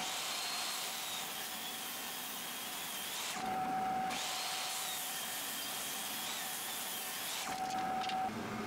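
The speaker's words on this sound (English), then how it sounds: "We'll rip it in half and laminate both pieces together for a thicker board." A power saw rips a pallet hardwood 2x6 board lengthwise, a loud continuous whining cut that runs throughout with brief dips in tone where the blade load changes.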